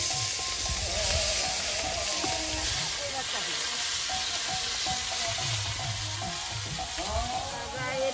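Moyati fish fry in a pan with a steady, close sizzling hiss and occasional stirring scrapes, the bubbling oil continuing evenly throughout.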